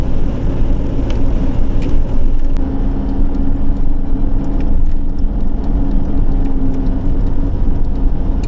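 A car cruises along a coastal road near Patara, its engine and tyres making a loud, steady rumbling drone with faint ticks and no pauses.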